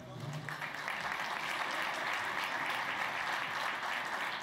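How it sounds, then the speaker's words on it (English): Audience applause fills a school luncheon room, a dense steady wash of many hands clapping throughout, with a faint voice underneath near the start. "Give another round of applause for Dr."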